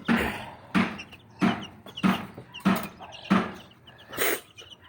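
Young chicks being moved into a new coop with fresh screening give repeated short clucks and peeps in a steady rhythm, about seven bursts in five seconds, close and fairly clear with no talk over them.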